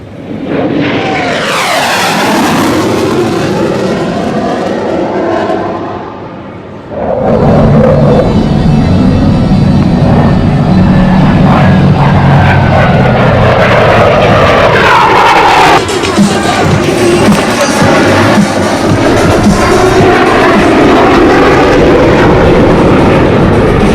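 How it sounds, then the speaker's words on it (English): A Canadian Forces CF-18 Hornet military jet flies past at the Canadian International Air Show, a loud, sustained roar that dips briefly, then swells back to a powerful, continuous rumble. "CF-18 Hornet."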